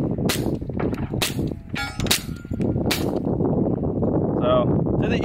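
A suppressed .45 pistol firing subsonic rounds at about 870 feet per second lets off five sharp, close reports at irregular intervals, each a quick crack with a short ringing tail.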